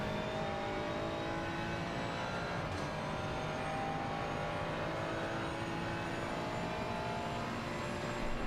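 A Ford GT3 race car in a racing video game at COTA pulls hard down a straight, a steady, dense engine drone climbing gradually in pitch, loud and continuous with no talking.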